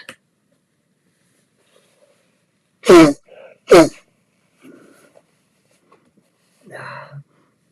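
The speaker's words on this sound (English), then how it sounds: "When you got to blow your nose, I don't know how to say that nicely." A man blows his nose twice in quick succession, two loud, close honking bursts, followed by a few softer sniffs and small rustles in an otherwise quiet room.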